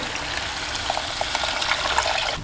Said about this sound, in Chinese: 再倒入适量的清水